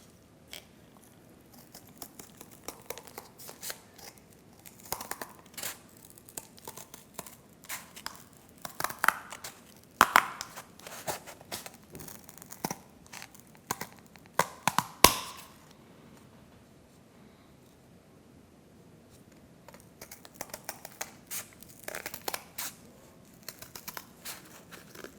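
Scissors snip through paper or thin card while cutting out a custom jigsaw puzzle, close, sparse crisp cuts and rustles with quiet gaps and a few sharper snaps.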